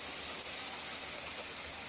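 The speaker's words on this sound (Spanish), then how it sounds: "Mira cómo llueve." A May hailstorm with rain and small hail pouring down onto the ground and a parked car, making a dense, steady hiss that stays even and continuous throughout.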